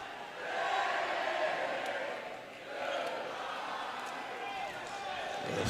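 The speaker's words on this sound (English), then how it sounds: "The Spring Hill student section letting the Ottawa crowd hear it." Student section chanting goodbye chants at the Ottawa crowd during a high school basketball game against the Cyclones, a loud sustained crowd roar with rhythmic chanting that dips briefly midway before rising again.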